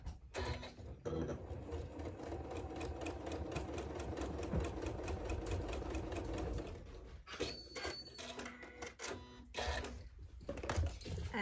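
A sewing machine runs a diagonal line of stitching across a quilt sashing strip, a continuous close mechanical whir for about seven seconds, then breaks into shorter bursts and clicks as it stops and restarts.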